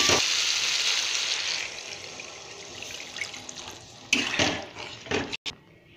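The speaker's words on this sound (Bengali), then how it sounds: "এবার এতে জল দিয়ে দেবো।" Water poured from a tap or jug into a pan of fish curry with potato and bori, a steady close rushing splash that trails off, followed by a few brief clatters near the end.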